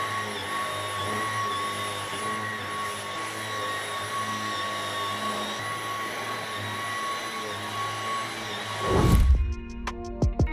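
Cordless vacuum cleaner with an LCD screen running on auto suction mode, a steady whining motor drone held close and loud, cutting off near the end into a few clattering knocks.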